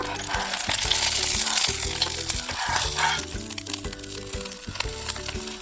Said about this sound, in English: It is frying the fish